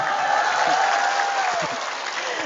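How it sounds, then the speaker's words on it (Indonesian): An audience at an Islamic religious lecture on fasting and forgiveness claps hands in a dense, steady burst of applause, fairly close and sustained across the whole moment, with a voice faintly heard beneath. "Tepuk tangan, tepuk tangan."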